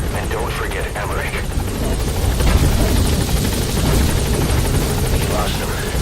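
A helicopter touches down in Metal Gear Solid V: The Phantom Pain, with a loud, close, continuous rotor thrum and engine roar while voices speak over it.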